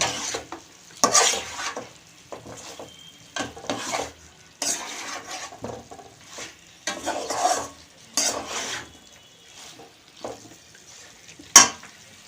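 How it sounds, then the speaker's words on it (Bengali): Chicken curry being stirred in a pan, a run of scraping and sizzling strokes in bursts with pauses between them, ending on a sharp clink near the end, moderately loud and close. "একটুখানি নাড়িয়ে নেব"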